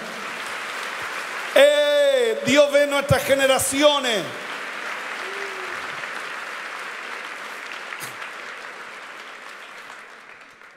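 A church congregation claps for several seconds. Beforehand a preacher speaks loudly in Spanish, and after that the clapping fades to a soft, scattered patter.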